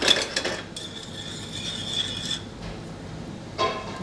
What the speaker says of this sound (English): Again, just stir it in.